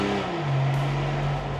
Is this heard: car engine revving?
yes